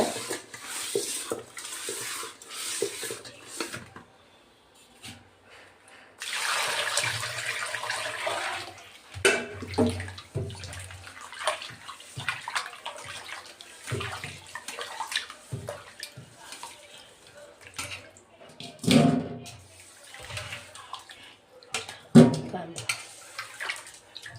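Ayila fish are washed by hand in a bowl of water with rock salt, giving repeated sloshing and splashing in bursts of varying loudness while a person talks intermittently.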